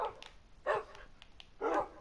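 A few short dog barks from Minecraft come in separated bursts over quiet background, moderately loud and close, no speech.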